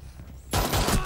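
Friendly gunfire in the game Rainbow Six Siege: after a quieter lead-in, a sudden dense burst of rapid shots breaks out and continues loud and close to the end.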